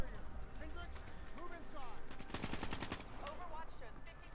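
Game gunfire in Call of Duty Black Ops 3 on Realistic difficulty: a burst of rapid automatic shots in the middle, with more scattered shots before and after, mixed with game noise and someone talking over it.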